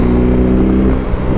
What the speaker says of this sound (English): That sounds great. It's a fun motorcycle already.